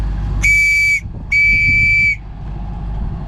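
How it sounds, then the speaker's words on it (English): Two long, loud, steady whistle blasts, each about half a second to a second, separated by a brief pause, over a low background rumble, sounded as a fog signal at sea. "So I keep whistling."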